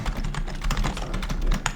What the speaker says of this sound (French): c'est quoi ce clavier là?